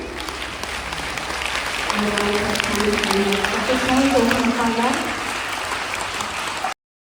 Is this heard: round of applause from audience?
yes